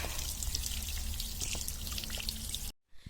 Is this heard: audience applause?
no